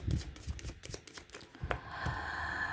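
Tarot cards are shuffled by hand in a series of quick riffling, flicking bursts that end in a longer, steady rustle, close and clear with no talking.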